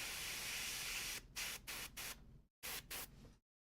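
Aerosol spray paint hisses out in white while painting, first as one long continuous burst and then as several short, close spurts separated by brief gaps.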